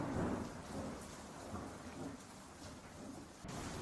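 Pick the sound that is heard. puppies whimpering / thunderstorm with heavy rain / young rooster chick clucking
thunderstorm with heavy rain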